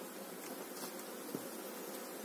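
Local honey bees hum around a hive in an apiary, a continuous soft swarm buzz at close range, with a few louder bees passing near the microphone.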